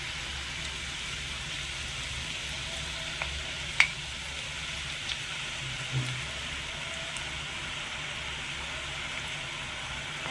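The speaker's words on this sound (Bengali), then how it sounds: "এবারে সীতাভোগ গুলো ভেজে নেব" Semolina sitabhog sweets fry in hot oil with a soft, steady sizzle and a few faint clicks and taps of a utensil, no voices.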